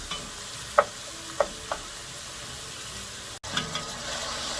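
Ground beef browning in a pan with mushroom, celery, onion and garlic, a soft steady sizzle broken by a few scraping strokes of a spatula as the meat is broken up.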